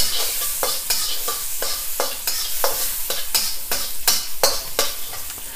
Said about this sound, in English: And the garlic. They fry a little bit.